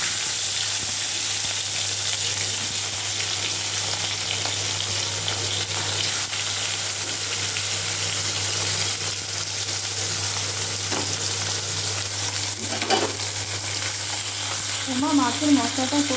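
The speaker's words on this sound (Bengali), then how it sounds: "মাছগুলো একে একে কড়াইতে ছেড়ে ভেজে নেব।" Pieces of rui fish crackle and sizzle steadily in hot oil in a kadai, a continuous close frying sound with a brief voice near the end.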